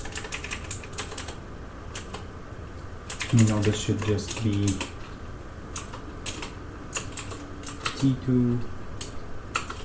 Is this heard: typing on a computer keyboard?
yes